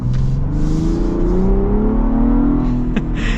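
A 2024 Ford Bronco Raptor's engine pulls strongly under acceleration while driving, a close, loud, steady drone whose pitch rises smoothly through the gear, with a brief shift-like break near the end.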